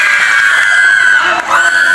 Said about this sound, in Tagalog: Grabe na po ang sigawan doon